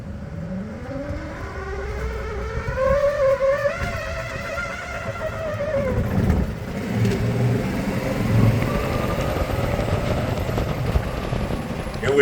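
Golf cart driving through a tunnel beneath El Camino Real in The Villages, Florida, its motor and tire noise rising and echoing steadily under the road with a voice talking over it.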